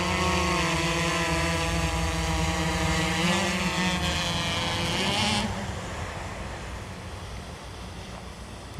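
A DJI Inspire 1 drone's propellers whir in a loud, steady buzzing whine that shifts in pitch as it climbs, then drops to a quieter, more distant hum.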